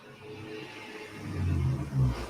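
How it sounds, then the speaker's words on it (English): A loud vehicle that sounds like a big truck, apparently missing its muffler, rumbles past outdoors, a low droning roar that swells toward the end, heard alone with no voices. "Man, that sounds like a big truck."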